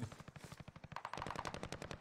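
Rapid automatic gunfire in Fortnite, a fast even rhythm of crisp shots in a steady burst, heard alone and fairly quiet.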